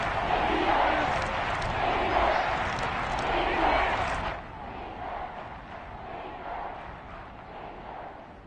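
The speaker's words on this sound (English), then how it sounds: "That just means this crowd's going to get even louder." Stadium crowd noise in a football video game, a loud continuous roar that drops to a quieter murmur partway through.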